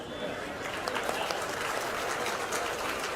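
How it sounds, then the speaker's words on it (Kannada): An audience at a Congress party gathering in Varuna, Karnataka, claps steadily: a dense patter of many hands, evenly sustained and moderately loud, with voices faintly mixed in. "ಆದರೆ ಇದಕ್ಕೆ ಚಪ್ಪಾಳೆ ತಟ್ಟಬೇಕು."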